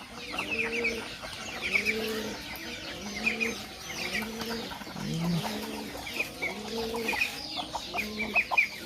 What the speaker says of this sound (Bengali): ওই যে রাজহাঁসে দৌড়ে আইছে